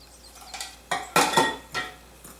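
Melted butter is stirred into a rhubarb dessert crumble in a bowl with a utensil, producing several distinct scraping clinks and knocks against the bowl in an irregular rhythm. The sounds are close and clear, with no talking.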